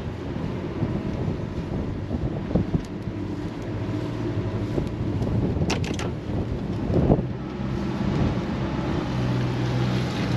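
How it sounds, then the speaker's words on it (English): Strong wind buffets the microphone aboard a Leopard 45 sailing catamaran at anchor, a steady loud roar with gusty surges and water sloshing against the hulls, no voices. "yeah, the wind is strong."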